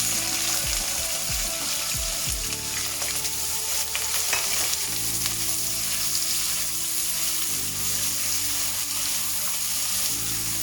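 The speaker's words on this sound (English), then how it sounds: "Just wait for it to sizzle a bit and immediately add my onions." Steady sizzling and crackling of onions frying in hot oil, continuous and fairly loud, with occasional stirring clatter and no voices.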